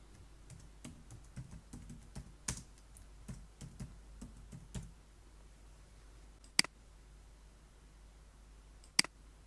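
Rapid, irregular clicks of typing on a computer keyboard at close range, settling after a few seconds into a pause broken by two sharp isolated key or mouse clicks.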